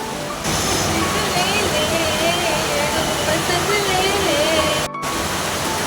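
Heavy monsoon rain in Dombivli makes a loud, continuous roar close by, with a voice speaking faintly beneath it.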